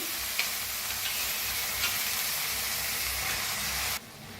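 Soaked chana dal is stirred in a hot oil tempering with red chili for a ridge gourd dish, giving a steady close sizzle with faint scraping strokes that stops abruptly near the end.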